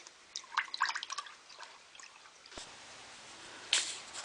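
Rainwater during heavy rainfall drips and trickles into a basement floor drain pipe, scattered irregular drops with a soft running flow and a sharp knock partway through, close and fairly quiet.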